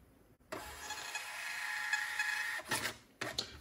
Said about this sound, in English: Go to printer properties and I'm going to put a test print.